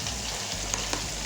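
Whole spices hit hot oil in a sizzling mutton karahi, giving a brief, steady crackling fry with a couple of faint sharp pops, close and on its own.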